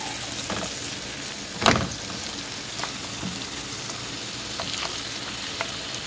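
Buttered shrimp and vegetables sizzle steadily in a frying pan while being stirred, with one sharper scrape or clatter early on and scattered soft stirring taps.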